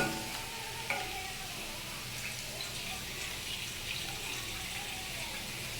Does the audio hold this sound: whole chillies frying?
yes